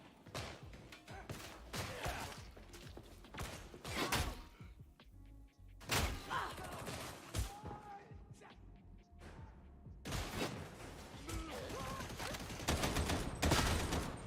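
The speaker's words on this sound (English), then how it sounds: "Gunfire." Bursts of rapid gunfire crackle in uneven volleys in Warhammer 40,000: Darktide video game, separated by short quiet gaps, fairly faint overall with game-like impacts.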